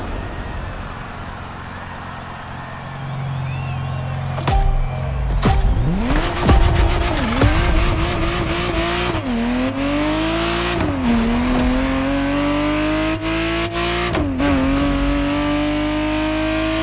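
A Ferrari Testarossa is driven hard in The Crew Motorfest, its engine revving up through several gear changes with rising whines and sharp shift dips, loud and close.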